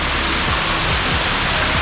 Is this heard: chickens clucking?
no